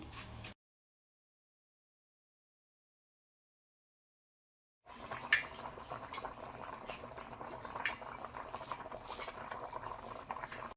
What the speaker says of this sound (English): been boiling almost 10 minutes already